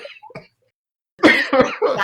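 A person coughs in short, harsh bursts, starting with a few quick hacks, then a pause, then a louder run of deeper coughs close to the mic.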